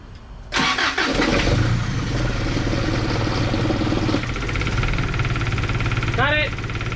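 Engine cranks and catches on a cold start of a Toyota, then runs loud and steady with a rough idle, while voices talk nearby.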